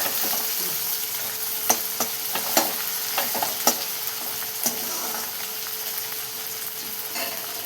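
Onion and tomato frying in a pan after cumin, a continuous soft sizzle punctuated by several sharp clicks and scrapes of a spoon stirring against the metal, close up with no talking.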